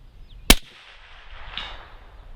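One loud, close shot from a CMMG Resolute 350 Legend AR-15 rifle on an outdoor shooting range, with a softer delayed thump of the bullet's impact or echo from downrange.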